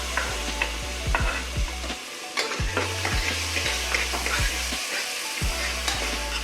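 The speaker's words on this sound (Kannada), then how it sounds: "ಈಗ ಈರುಳ್ಳಿ ಸ್ವಲ್ಪ ಫ್ರೈ ಆಗಿದೆ, ಅದಕ್ಕೆ ಈಗ ಟೊಮೊಟೊ ಸೇರಿಸ್ಕೊತಾ ಇದ್ದೀವಿ." Onions and tomatoes frying in a pan for a South Indian mutton sambar, with a steady close sizzle and repeated scraping stirs of a spoon against the pan.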